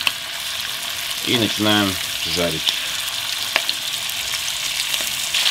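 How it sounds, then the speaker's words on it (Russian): Chicken wings sizzle in a hot pan with garlic and rosemary, a loud, steady frying hiss that runs throughout while a voice speaks briefly over it. "Обязательно с каждой стороны обжариваем по 3 минуты."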